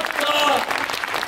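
A theme-park show crowd at Universal Studios Japan breaks into brisk, steady applause, with a voice speaking loudly over the clapping through the first half of the brief burst.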